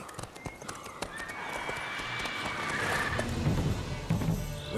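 Roach, Geralt's horse in The Witcher 3, gallops with rapid hoof clip-clops and gives a clear neigh, close and loud and building in intensity over a few seconds.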